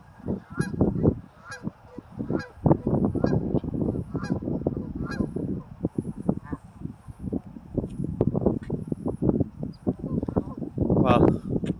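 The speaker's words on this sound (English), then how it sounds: "These are the same ducks that we can see. These are ducks." Ducks in a park quack and honk repeatedly in a busy, close cluster, with voices talking intermittently over the calls throughout.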